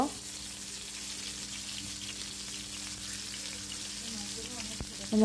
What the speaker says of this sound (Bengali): মাছগুলোকে ভেজে নিচ্ছি। এ পর্যায়ে তেল একটু ছিটাছিটি করে